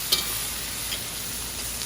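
Drunken noodles (pad kee mao) folding and frying in a hot pan, a steady broadband sizzle with one brief scrape near the start, close and continuous with no talking.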